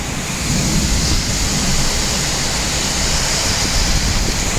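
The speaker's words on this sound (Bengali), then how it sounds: "বর্তমানে ভয়ঙ্কর অবস্থাতে দিনাজপুরে ঝড় বৃষ্টি হাওয়া বয়ে যাচ্ছে" A violent storm in Dinajpur with strong wind and hail-laden rain, a dense, constant roar of rushing wind and pouring rain filling the whole recording without a break.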